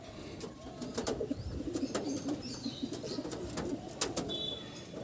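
A pair of Kaldum pigeons coo steadily and close by in a loft, soft repeated low coos running throughout with a few sharp clicks and rustles in the background.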